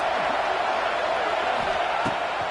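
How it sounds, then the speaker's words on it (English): Roaring stadium crowd in the Madden NFL 25 football video game, a dense, steady wash of cheering noise at even loudness with faint commentary voices underneath. "Listen to this crowd just shaking the girders of this place trying to help their defense."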